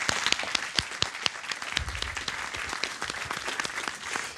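A conference audience applauds steadily throughout at an opening session on web series at the Carrefour Numérique, the dense clapping sustained and fairly even with no talk over it.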